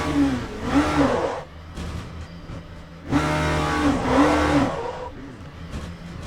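Race car in the Le Mans Ultimate racing game revving hard in two loud bursts, engine climbing and falling as it pulls away from a chicane after spinning out, with a steady mechanical drone between the surges.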